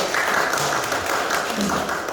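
Applause for an honoured guest at an opening ceremony for a company logistics centre, a continuous crowd clapping with a voice heard over it, steady and moderately loud.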